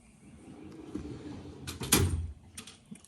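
A drawer on a Snap-on roll cart toolbox slides open with a short metallic rolling scrape and a clunk near the middle, fairly faint and close, with a little handling noise around it.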